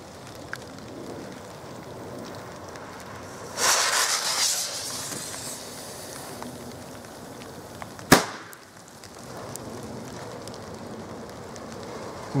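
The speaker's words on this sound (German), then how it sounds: "der rote Kanonenschlag." A red cannon-shot firecracker (Kanonenschlag) goes off outdoors with one sharp, loud bang midway through. A steady ambient hiss and an earlier rushing burst surround it.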